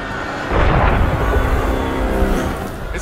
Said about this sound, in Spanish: Ese fue un cañonazo.